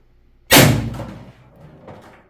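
A single sharp shot from an FSC Betsy CO2 air rifle being power tuned, loud and close, with a quick decaying tail and a fainter follow-up rattle; no talking.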